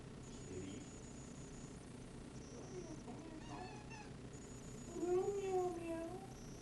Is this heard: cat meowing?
yes